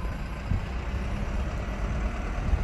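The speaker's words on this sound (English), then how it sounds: "The engine sound alright a little bit, but it's still a bit very shady and shabby bus anyway." A DAF-engined bus in Scunthorpe, its engine running with a steady low rumble heard from inside, constant and fairly loud with no voices.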